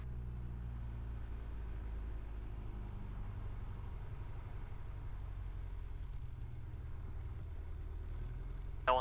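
A Piper Archer aircraft engine throttled to 1000 RPM, a steady low droning rumble heard close from inside, continuous and even throughout, with a brief click at the very end.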